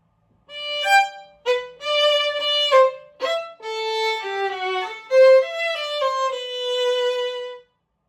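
A solo violin phrase from the third movement of Seitz Concerto No. 2 opens with a few short, lifted bow strokes, then settles into longer, singing tones before stopping.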